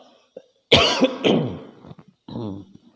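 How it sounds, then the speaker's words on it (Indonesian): A person coughs several times in quick bursts, close by, with a short pause and then a throaty cough and a clearing of the throat. "Sorry batuk ya."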